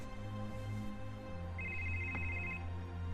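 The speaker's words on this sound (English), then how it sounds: "Answer the goddamn phone, Annalise." A telephone ringing in a dramatic TV scene, a short electronic trill heard fairly faintly over a steady background hum.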